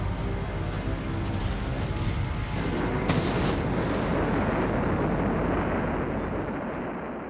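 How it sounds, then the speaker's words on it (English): A barrage of depth charges dropped by British destroyers on an enemy U-boat at sea in WW2, heard as a long, loud, rumbling roar of overlapping blasts with a sharper burst partway through before it slowly fades. "They fired off a barrage of depth charges."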